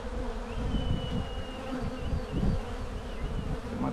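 Dense, steady drone of honeybees swarming around an open hive during an inspection, filling the whole clip at close range with a few brief higher whines of individual bees passing near, and no talking.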